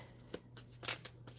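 Tarot cards shuffle quietly in a few soft, quick flicks and slides over a low background hum, with no talking.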